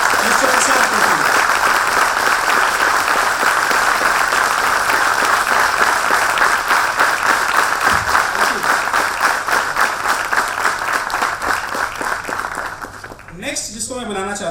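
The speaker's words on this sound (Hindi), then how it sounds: "एक बार जोरदार तालियों से वेलकम कीजिए" An audience gives loud, sustained applause welcoming the chairman of the Electronica Group at a business event, dense clapping filling the room for over ten seconds before thinning out near the end, with a voice talking over it.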